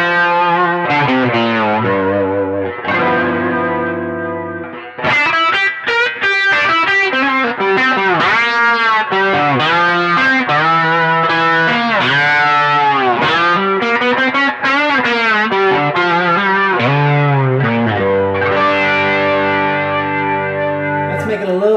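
An electric guitar runs through a modulation pedal with added gain, giving a loud, distorted, chorus-like wash of sustained chords and swirling notes that plays for a long stretch with no talk.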